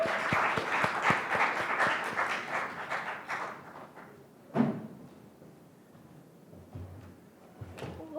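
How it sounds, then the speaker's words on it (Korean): An audience at a youth speech contest applauds before a high school student's speech, dense clapping that thins out and fades into scattered claps, a few louder thumps, and quiet room noise. "학생의 연설을 박수로 들어보겠습니다."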